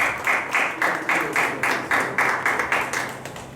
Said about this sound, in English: Let the applause keep continuing.